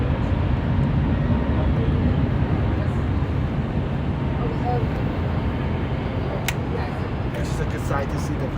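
An airplane's broad, steady engine roar fills the air at LAX airport, heard from a nearby hotel vantage point. The sound stays loud and constant throughout, with some faint talking beneath it.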